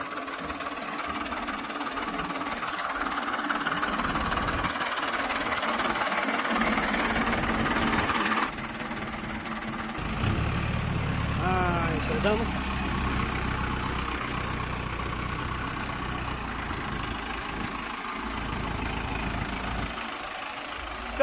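A tractor engine runs steadily while being driven in the morning, a continuous mid-low rumble with slight knocking that holds throughout, shifting in tone partway through as the load changes, with no talking over it.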